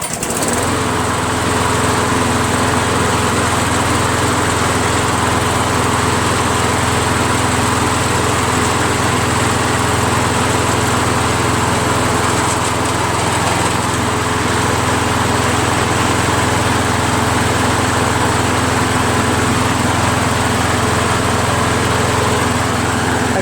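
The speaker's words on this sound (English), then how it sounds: "those Briggs Quantum engines are so smooth. Really runs well." Push lawn mower powered by a Briggs & Stratton Quantum engine, running steadily and smoothly at a constant loud drone close by, with no change in pitch and no voices.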